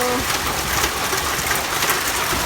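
A dense, steady hammering of hail pelting a vegetable garden and road, loud and continuous without pause.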